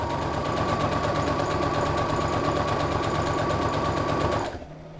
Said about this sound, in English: when you're stitching, you're doing what's called an edge stitch